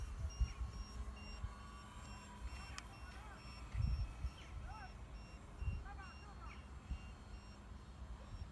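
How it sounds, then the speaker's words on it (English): Faint, evenly spaced electronic beeps from a radio-controlled aircraft's low-battery buzzer repeat under low rumbling and brief chirps, with a voice speaking in the background. "that's my battery meter saying that I'm low"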